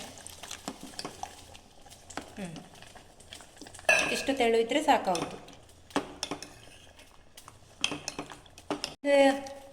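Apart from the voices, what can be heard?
mixing water into jackfruit batter in a pot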